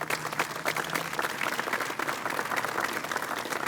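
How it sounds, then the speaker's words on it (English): Audience applause at a news conference on rapid rehousing in Dallas, a steady wash of many hands clapping at an even level throughout, with no talk over it. "I'd like to give them a round of applause."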